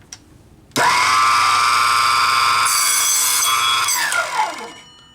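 A Proxxon KGS 80 mini mitre chop saw with a carbide blade spins up and cuts, giving a loud, close, high-pitched whine for about three seconds before winding down.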